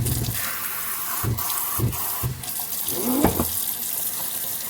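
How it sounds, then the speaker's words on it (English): Soursop leaves are rinsed under a running kitchen tap, with a steady close stream of water that splashes and gurgles in bursts as the leaves are moved, and a brief spoken remark near the end. "So we're going to go ahead and rinse these off"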